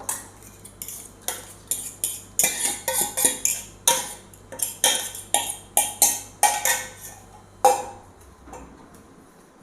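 A spoon or whisk clinks and scrapes steadily against a bowl while eggs are mixed with oats for a quick breakfast, the rhythmic knocks coming close and fairly loud with no talking.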